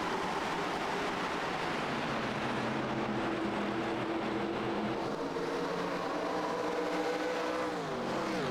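Race cars in an FTF Cup Series race at Homestead sweep through the corners, a continuous layered engine roar with rising and falling revs as several cars accelerate out of turns, no voices.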